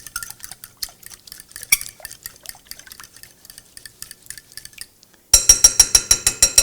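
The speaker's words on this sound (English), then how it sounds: "All right, let's mix this all together." Shrimp are tossed with hot pepper sauce in a bowl, giving wet, squelchy stirring and light clinks up close, followed by a burst of faster rhythmic mixing strokes.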